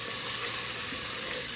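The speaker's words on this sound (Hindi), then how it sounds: "अदरक लहसुन के साथ थोड़ा सा भून के इसको" Fresh ground ginger and garlic fry in a pan, a steady close sizzle with soft crackling throughout, no voices.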